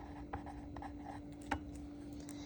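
Pencil writing by hand on a math worksheet, faint soft scratching with a couple of small taps as strokes land, very quiet and close, with no one talking over it.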